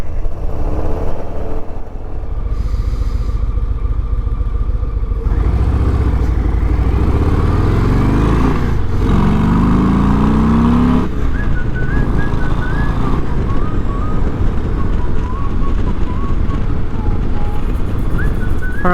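Motorcycle riding on a chilly morning, steady engine drone and road rumble throughout with wind noise and a passing shift in engine pitch, no clear talk.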